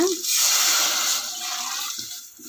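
A close rush of water being poured into a pot of rice, steady for a couple of seconds and then trailing off, with a voice briefly heard.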